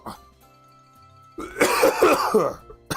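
A short, close cough burst with a throaty rasp, following a quiet pause and a small throat sound.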